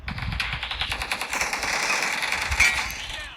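Rapid, dense bursts of automatic gunfire in a video game crackle almost continuously, loud and close, with a sharp burst near the end; no voices.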